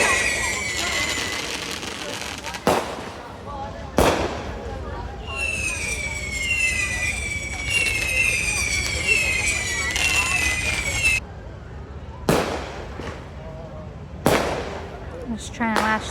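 Fireworks explode over a village at night, sharp bangs popping at irregular intervals amid crackling and whistling rockets, with voices of onlookers mixed in nearby.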